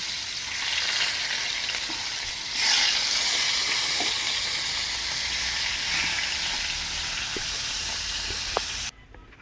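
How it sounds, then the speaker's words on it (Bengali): Koi fish frying one by one in hot mustard oil in a kadai, a loud continuous sizzle and crackle with a brief surge near the start and small pops scattered through, ending abruptly. "এবার মাছগুলো এক এক করে ভেজে নেব।"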